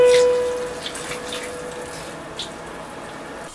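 Hot water pours into a container while cooking fish, a close, steady splashing stream with a faint hum underneath that tapers off after the first second.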